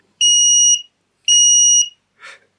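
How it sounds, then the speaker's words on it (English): A timer beeping during midframe reballing repair, two long high-pitched electronic beeps followed by a short faint rustle. "That timer tells us we're at the mark."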